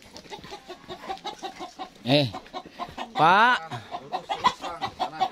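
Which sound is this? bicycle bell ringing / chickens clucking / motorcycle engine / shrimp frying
chickens clucking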